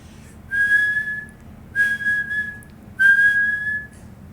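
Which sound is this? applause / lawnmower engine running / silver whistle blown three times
silver whistle blown three times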